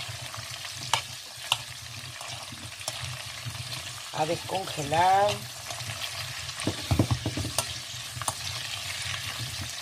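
Sausages and carrots fry and sizzle in oil in a pan, a steady close crackle with stirring scrapes and a burst of louder sizzling midway; someone speaks briefly over it.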